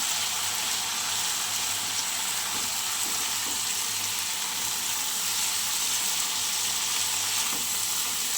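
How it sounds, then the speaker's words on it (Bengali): Onion, garlic, ginger, tomato, cumin and chilli powder with salt fry in a pan for a prawn and fig curry, giving a continuous close hissing sizzle with faint stirring scrapes, steady and unbroken, and no one speaking. "স্বাদ মতো লবণ দিয়ে সুন্দর করে আমি কষিয়ে নেব বন্ধুরা"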